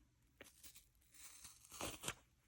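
An HTV heat-transfer vinyl carrier sheet is peeled off a still-warm stuffed bunny in a few quick tearing pulls, quiet and close, with a crinkly rip building to a stronger final tug.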